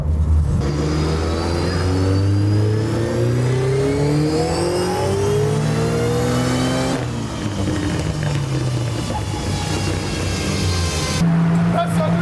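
A 500 hp VW Polo drift car engine revs hard and continuously, with rising and falling harmonic sweeps as the throttle climbs and drops, loud and close, with voices talking over it.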